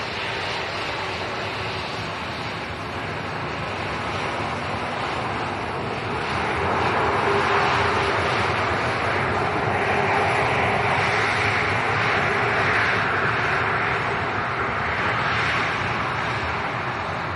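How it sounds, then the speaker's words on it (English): A 27-year-old Jet2 Boeing 737-300 airliner at Leeds Bradford Airport produces a loud, continuous jet engine roar that swells and stays strong throughout. "This is Jet 2 to Malaga. Another 300 Series 737 Fox Kilo,"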